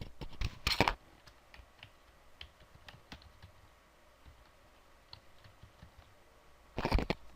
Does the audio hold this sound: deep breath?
no